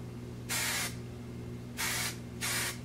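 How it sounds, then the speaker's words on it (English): Hairspray sprayed onto long curled hair in three short hissing bursts, close and clear over a faint steady background hum. "I'm just going through with the hairspray and kind of touching that up."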